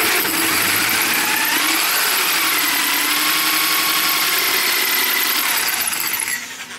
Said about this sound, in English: It's not drilling very good now